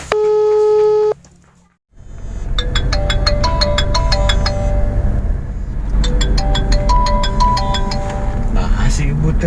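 A mobile phone ringtone plays loud and close: a short synthetic tone bursts first, then a pause, then a long run of repeating bright electronic chime phrases in a steady looping rhythm over a low background rumble.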